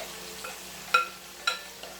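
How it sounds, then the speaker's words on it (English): A tomato and vegetable mixture for eggplant stew cooks in a pot on a front burner, giving a faint steady sizzle broken by two or three sharp clinks. "get our tomato and other vegetable mixture and put it in this front pot here and just let it cook"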